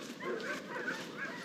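A dog gives a run of soft yips and whimpering bow-wows, several short high-pitched calls in quick succession over a quiet background.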